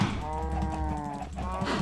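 Cattle in a Minecraft-style block-building game moo in a continuous low, droning chorus, several animals overlapping without pause.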